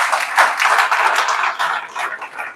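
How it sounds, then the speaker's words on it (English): An audience applauds at a live gathering, a dense, close patter of many hands clapping together that holds fairly steady before easing off slightly toward the end. "can we give Elias and team a huge round of applause for creating this opportunity for us?"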